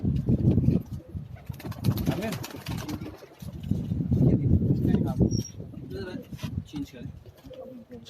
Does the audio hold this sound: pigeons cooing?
yes